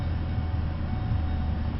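Low steady engine grumble from a 2012 Ford Focus SE with a four-cylinder and manual gearbox, a continuous close rumble heard from inside the car with no talk.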